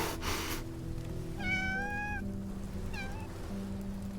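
A cartoon cat in a video game gives two clear meows, a longer rising one and then a shorter one, over steady game background music with no talking.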